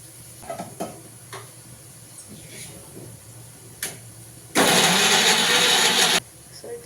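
A mixer grinder whirs loudly in one steady burst of under two seconds as it grinds tamarind with salt, cumin and coriander, following quieter handling clicks.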